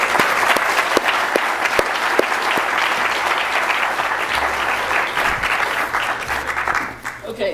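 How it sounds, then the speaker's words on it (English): An audience at a fintech event gives Chris Brummer a loud, sustained round of applause from a full room, with voices mixed in, tapering off at the end. "Let's give Chris a round of applause."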